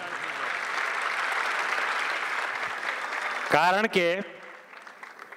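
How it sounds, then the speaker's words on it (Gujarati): Applause from the audience at a Gujarati community cultural program in Muscat, a steady clapping wash under a voice, which rises into louder speech near the end as the clapping fades. "મિત્રો જોતા તાળી થઈ જાય"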